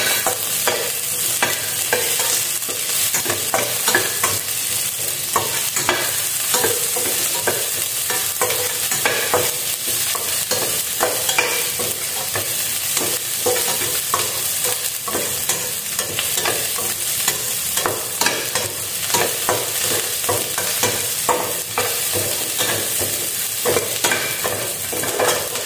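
Onions stir-fried in a pan ahead of adding fried milkfish, with steady loud sizzling and frequent scraping strokes of a spatula running continuously throughout.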